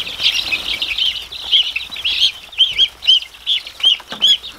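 A goose flapping its wings as it is put into a pen with chickens, with a series of loud, close wing bursts and clucking calls mixed in alongside.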